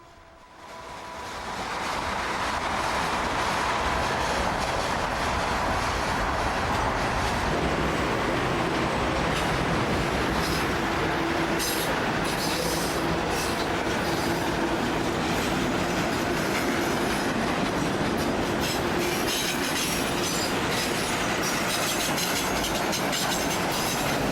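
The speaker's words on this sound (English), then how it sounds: "And this is a super duper long train." A long train rumbles past close by on Michigan Avenue, its steady roar and clatter of wheels continuing without a break for the whole stretch.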